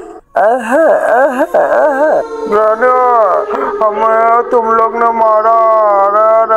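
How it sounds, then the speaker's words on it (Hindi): Dog howling and yelping in the horror game Granny, a series of loud, wavering calls up close, mixed with someone talking over it. "कुत्ता भी भौंक रहा है"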